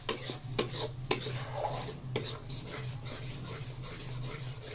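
Paneer being stirred with a splash of soy sauce in a pan at home, giving soft scraping and rubbing strokes with a few sharper clicks of a utensil against the pan, steady and close, with no talk.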